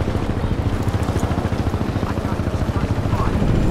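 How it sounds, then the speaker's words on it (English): Helicopter hovering in Crysis 2 Remastered, a fast steady rotor chop thudding close and loud throughout, blended with game sounds and a voice speaking over it. "Why is that helicopter hovering there?"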